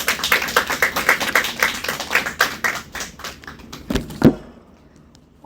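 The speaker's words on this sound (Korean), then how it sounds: "박수로 맞이하시면 되겠습니다." A small church congregation claps in welcome, producing a rhythmic, fairly close run of individual hand claps with a steady beat that tapers off after about four seconds into quiet.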